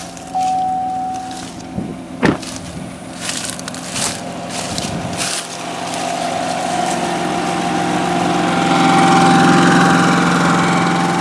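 Car engine cranking and catching after a jump start from a Yamaha EF2400is generator with a dead battery, a sharp crank burst then a steady idle rising slightly and settling into a continuous hum.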